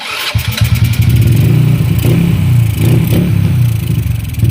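Honda Wave 100 motorcycle engine, freshly top-overhauled with its carburetor still out of tune, catches and runs close by with a loud, uneven clattering putter and small revs, no talking.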